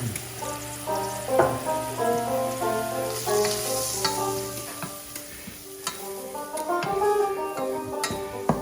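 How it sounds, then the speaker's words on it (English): Curry powder and cayenne roasting in a paste in a pan, a steady close sizzle with clinks and scraping stirs and a faint tonal hum behind. "wake up the curry a little bit and just roast this a little in this paste"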